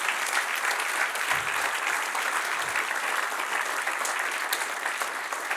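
Congregation in a church service applauds the Lord with steady, dense clapping, sustained and even throughout, with no talk over it.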